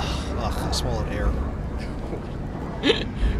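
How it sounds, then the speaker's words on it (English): A single short hiccup jolts out of a person amid breathy vocal noises and mumbling, with soft game sounds underneath. "I just hiccuped and I accidentally swallowed air"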